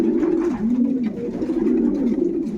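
Racing pigeons coo steadily in a loft, a dense, continuous low burbling from several birds close by, rising and falling in overlapping waves with no talk.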